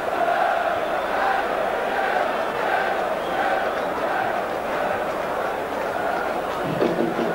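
A football crowd fills Upton Park on a frosty FA Cup third-round night, West Ham against Aldershot, a broad, constant roar of many voices that holds steady throughout.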